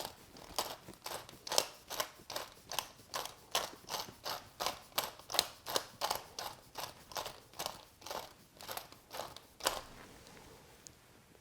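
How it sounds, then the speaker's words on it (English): A grinder cracks black pepper with a quick rhythmic series of faint ratcheting crunches, about two per second. Close but quiet, with no talking. "you can be even more generous with that freshly cracked black pepper"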